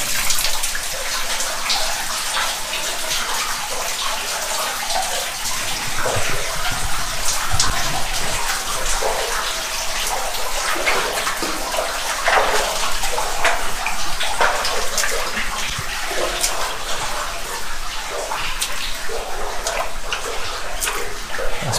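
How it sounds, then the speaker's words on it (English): Steady loud rush of water leaking in a tunnel, splashing and dripping, filling the space, continuous and close with no pauses. "There's a lot of water here."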